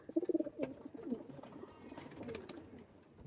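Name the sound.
pigeons cooing, flying pigeons shown for sale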